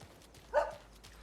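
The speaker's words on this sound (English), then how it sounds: "I heard a dog." A dog gives a single short bark in the video game Alan Wake II, faint and distant against quiet background ambience.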